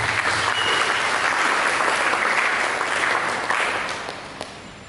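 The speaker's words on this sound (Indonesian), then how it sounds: "Mereka berikan tepuk tangan." A church congregation at a sermon breaks into loud, full applause that holds strong for a few seconds, then tapers off toward the end.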